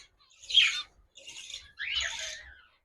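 Budgerigars, cockatiels and finches in a large home aviary colony in Diamond Harbour give three short, bright bursts of chirping and squawking, fairly faint, with quiet gaps in between.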